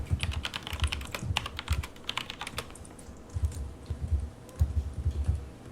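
Fast typing on a computer keyboard, close and crisp, comes in quick bursts of clicking keys with brief pauses between runs, and no one speaks.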